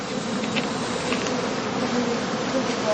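Honey bees buzz continuously around heather skep hives in a heathland apiary, a dense, steady drone close by with no voices.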